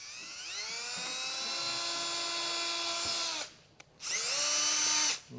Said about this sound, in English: then we'll get some pilot holes drilled out